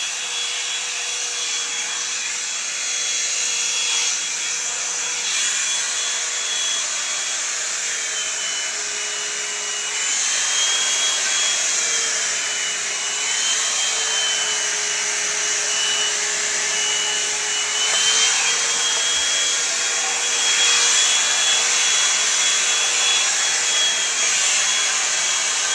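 A hair dryer blows steadily on hair, a loud, close, continuous whirring rush with a high whine that wavers slightly in pitch as it moves, running without talk for the whole stretch.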